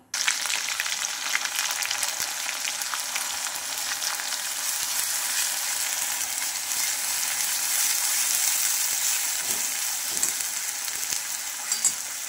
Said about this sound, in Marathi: तर हा मसाला छानपैकी आपल्याला परतून घ्यायचा आहे।